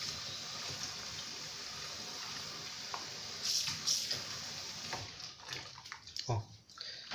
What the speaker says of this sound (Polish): więc trochę tej wody muszę tutaj wlać.